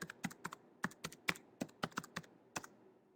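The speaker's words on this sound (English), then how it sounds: "So the apps that I'm using to create most of these here are on PicMonkey.com. I'll type that." Someone types a web address on a computer keyboard, about a dozen crisp, close key clicks in quick, uneven bursts with short pauses between them.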